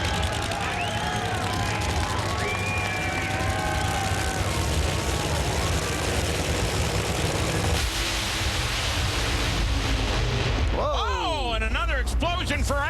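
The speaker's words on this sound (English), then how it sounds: "Ashley Force Hood has the car go up" A drag racing funny car blows its engine in a first-round Funny Car final-round matchup at the Toyo Tires Nationals, a sustained, loud, dense roar of engine noise and blast that fills the whole stretch, with voices faintly underneath.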